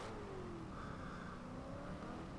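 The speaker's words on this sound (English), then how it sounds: "I can really hear that exhaust and it sounds beautiful." A 2012 Chevrolet Camaro engine revs and drones with a rough exhaust note in Forza Horizon 2, pitch sliding up and down, steady and fairly loud with no talking.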